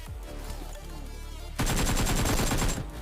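Automatic gunfire in PUBG Mobile, a loud sustained burst of rapid shots starting partway through after quieter game ambience, close and continuous to the end.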